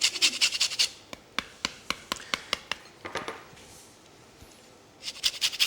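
An orange is zested for a dessert, the rasping strokes scraping the peel in a quick run of sharp, evenly spaced scratches, close and fairly loud, with brief pauses between bursts and no talking.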